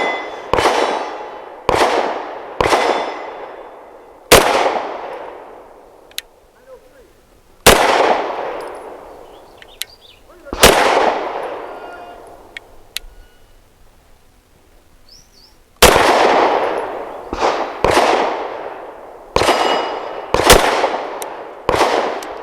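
BUL Armory SAS II TAC 4.25 pistol firing Winchester white box ammunition at a shooting range: a dozen sharp, loud gunshots in irregular groups, some quick doubles, each followed by a short ringing decay.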